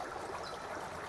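A gold pan swirled level underwater in a creek, giving a steady wash of flowing, trickling water with no talk over it.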